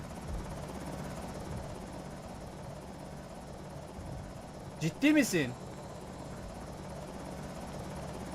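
Steady helicopter rotor drone from a helicopter in the video game Project Zomboid throughout, moderately loud, with a short burst of voice and a brief louder blip midway.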